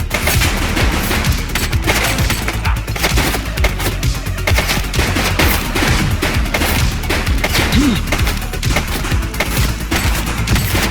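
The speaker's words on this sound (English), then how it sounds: "He's shooting!" Sustained gunfire in the police video game The Precinct, with dense, rapid shots and bursts crackling continuously for several seconds, loud and close, with no pause.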